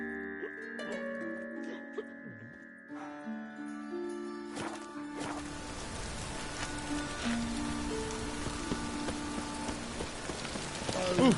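Rain falling in the video game Witcher 3, a soft, steady patter that starts quietly under lingering musical tones and then swells into a dense, continuous hiss of drops filling the scene.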